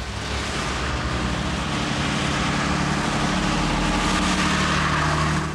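A dense, steady roar of traffic, broadband rumble with low-end drone, continuous and fairly loud with no voices.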